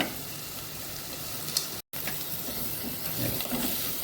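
A pan of egg pepper fry masala sizzles and crackles steadily up close, broken only by a split-second dropout partway through.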